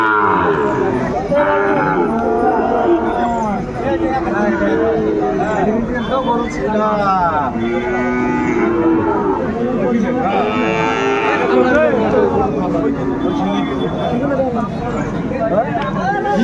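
Cattle, including Sahiwal-breed bulls and calves, moo repeatedly at a busy livestock market in Noakhali, with several near and overlapping calls set against constant crowd chatter and talk.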